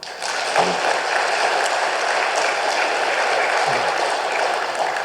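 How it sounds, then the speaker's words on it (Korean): Church congregation applauding its choir during a Sunday service, a steady, dense wash of clapping that holds evenly from start to finish, with a couple of faint low thumps underneath. "우리 성가대 위해서 다시 한번 박수로."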